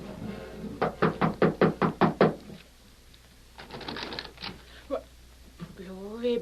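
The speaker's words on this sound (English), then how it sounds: "They walked up the steps to the porch and knocked on the door." Eight quick knocks on a wooden door in an even, steady rhythm, close and crisp, followed by a quiet pause and then voices talking.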